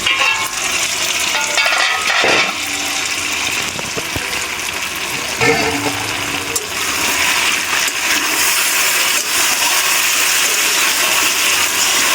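Yam and tilapia fish sauté in oil in a wok, a loud, steady sizzle and hiss with stirring scrapes and a few sharper clatters of the utensil against the pan, continuous throughout.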